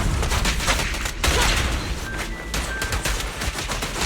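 Rapid, loud bursts of gunfire during a chase shootout in a game, dense overlapping shots rattling continuously with brief dips between volleys.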